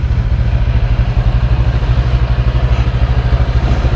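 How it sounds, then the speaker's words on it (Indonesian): A motorcycle engine idles loud and close after a cold morning start, its rough, rapid pulsing putter steady and unbroken with a mechanical clatter on top and no voices. "Cold start"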